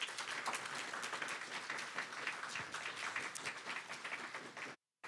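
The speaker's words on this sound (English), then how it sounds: "If we could have another round of applause for our feature" Sustained audience applause at a poetry reading event in a library, steady dense clapping for several seconds that cuts off abruptly near the end.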